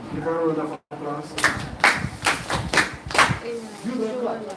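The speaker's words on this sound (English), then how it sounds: "Give her a round of applause" Audience members clap for Christina after a Bible-verse quiz, first a short burst of speech, then scattered, distinct handclaps that come in loose, uneven bursts rather than full applause.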